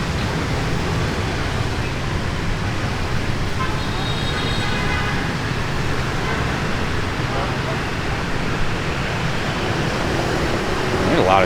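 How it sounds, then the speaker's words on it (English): Street traffic in District 1, Saigon, Vietnam, a steady, loud wash of engines and road noise with faint horn toots partway through, continuous and close around the listener. "There's a lot of traffic, man."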